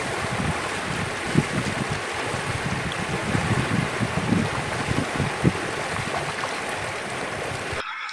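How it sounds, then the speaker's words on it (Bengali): A strong current rushes along the Murti River near its beach, a steady, close, churning wash of water with occasional splashes and wind buffeting the microphone, cutting off abruptly at the end. "এইখানটায় জলের স্রোত বেশি"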